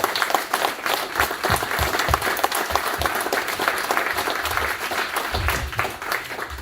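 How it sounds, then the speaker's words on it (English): A crowd at a VFW awards event applauds Vietnam veterans, steady clapping from many hands in a large hall, sustained at an even level throughout with only faint background murmur. "Let's give them a round of applause"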